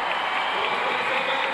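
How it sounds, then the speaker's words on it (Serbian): A crowd at a high jump competition applauds in a dense, steady wall of clapping that holds at an even loudness. "Probudio je publiku Mihajl Dudaš."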